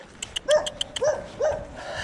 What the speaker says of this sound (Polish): A tam się piesek strasznie zdenerwował, jak mnie zobaczył